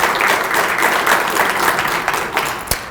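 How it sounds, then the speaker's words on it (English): An audience applauding the nursing department at a leadership summit, dense steady clapping from many hands throughout, with a few louder individual claps standing out toward the end. "Come on, I'll give a hand clap for that."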